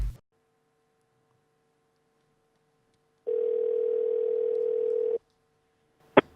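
Telephone dial tone on a prank call, a steady single-pitch hum that starts faint, then swells loud for about two seconds before cutting out, followed by a short click.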